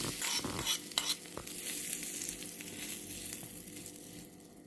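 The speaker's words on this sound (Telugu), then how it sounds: "ఆవాలు, జీలకర్ర, కొద్దిగా మినపప్పు, కరివేపాకు. తాలింపు వేగింది." Mustard seeds, cumin, a little urad dal and curry leaves sizzle and crackle in hot oil as a tempering for ridge gourd peel chutney, a steady close fry with scattered pops and a few stirring clinks.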